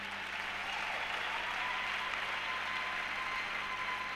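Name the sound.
church congregation applauding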